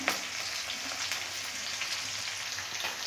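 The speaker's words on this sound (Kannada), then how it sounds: "ಈಗ ಹಸಿಮೆಣಸಿನ್ಕಾಯಿ ಫ್ರೈ ಆಗಿದೆ" About ten to twelve green chillies, slit lengthwise, fry in hot oil with a continuous close sizzle and scattered light crackles and pops throughout.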